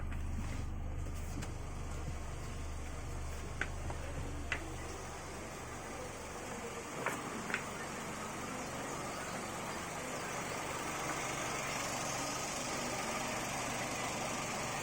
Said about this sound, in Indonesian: beginilah suara mesinnya setelah pemakaian sekitar 7 tahun.